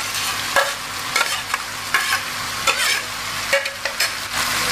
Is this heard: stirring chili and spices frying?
yes